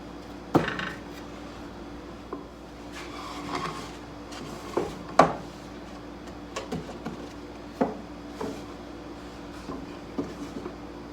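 Wooden nightstand drawer sliding into its opening during a dry fit, giving a series of short, fairly quiet knocks and scrapes spread irregularly through the stretch.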